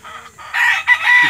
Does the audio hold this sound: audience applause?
no